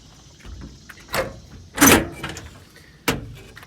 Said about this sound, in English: this front box does have these nice heavy-duty slide-out drawers